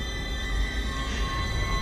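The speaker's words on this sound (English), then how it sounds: "Hop in the tram." A tram in the video game Dead Space rumbles and hums steadily with a high tonal whine, a continuous mechanical drone and no speech.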